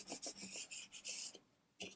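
Quick, dry scraping strokes of a small scraper tool rubbing vinyl down onto transfer tape, a rapid series of close, faint rasping passes followed by a brief pause and one last stroke.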